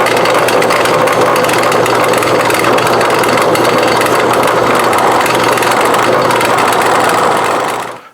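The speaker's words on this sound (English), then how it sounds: "we're going to break over the edges on those holes we just drilled" Drill press chamfering the edges of freshly drilled holes for roof rack traction board mounting pins, a loud continuous motor drone with cutting grind, steady throughout and cutting off abruptly at the end.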